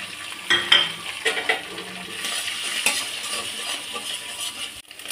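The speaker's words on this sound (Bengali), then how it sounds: "আমার গাজর আর ডিম ভাজা হয়ে গেছে" Carrot and egg fry in a pan for fried rice, a steady close sizzle broken by metallic scrapes and clinks of a spatula stirring against the pan.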